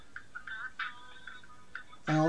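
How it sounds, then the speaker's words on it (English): An AW08 smartwatch rings with a short sequence of thin, melodic electronic tones, fairly faint and close, ending in a louder, fuller tone burst. "my smartwatch is ringing"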